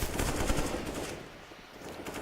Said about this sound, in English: One of the few players we've seen actually bringing up the M4 still as well. And actually the M4 silence one as well.